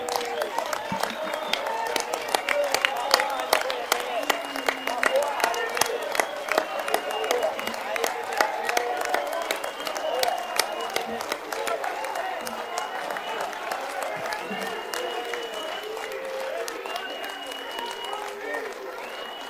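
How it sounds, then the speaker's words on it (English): Council meeting audience applauding steadily, a dense crowd clapping at moderate distance that holds for the whole stretch, with voices murmuring underneath. "they deserve a proper round of applause, and we must all stand up to honor them"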